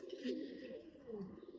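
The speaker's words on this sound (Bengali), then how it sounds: "এ হচ্ছে কবুতর সিল" A pigeon coos softly and low in a loft, a couple of throaty rolling coos close by and fairly quiet, with faint background noise.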